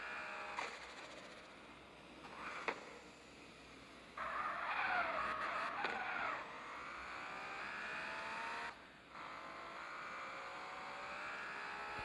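Car exhaust from a vehicle in the CarX Street video game, a continuous engine drone that swells and drops in level as the car revs and changes pace, with no speech.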